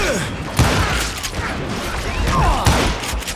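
Gunfire in the Wild West shooter Call of Juarez: Gunslinger, a fusillade of sharp shots with booms and mechanical clicks, spaced irregularly over a few seconds and sitting close and loud.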